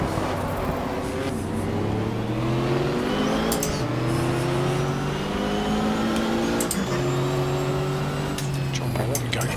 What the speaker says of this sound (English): John Morton going very quickly here in the 300ZX